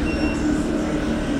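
A train rumbles steadily through a train station, a loud continuous low roar with faint squealing overtones and no break.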